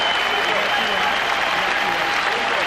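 A crowd of 21,000 at the Palace of Auburn Hills gives a long standing ovation, a dense, loud, unbroken roar of applause, with a commentator's voice speaking over it.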